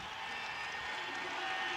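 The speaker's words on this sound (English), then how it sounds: "Listen to this crowd" A crowd at the 2001 X Games skateboarding event in Philadelphia cheers and applauds for a hometown skater, a dense, steady roar of clapping and shouting heard from within the stands.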